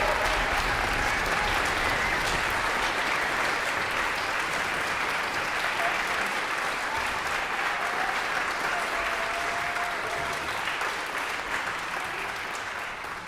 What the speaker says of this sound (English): Can we give a big round of applause for the musicians of the Berkshire Symphony for being here and playing so well?